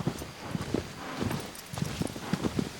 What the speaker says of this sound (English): Birds singing, horse galloping, a waterfall nearby, leaves rustling.